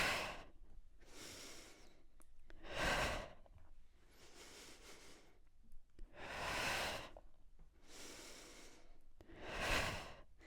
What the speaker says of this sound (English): I'm just breathing per movement